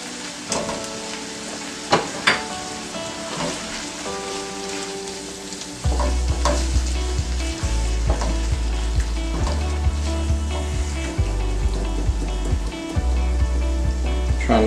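Chilies and black beans hit a hot pan, a quiet sizzle jumping to a louder, steady frying crackle partway through, with occasional stirring scrapes.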